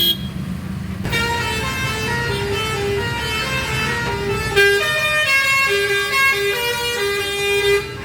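Car and truck horns honk in a jammed Indian city road during rain, long overlapping sustained blasts and shorter toots layered over idling engine rumble, loud and close throughout.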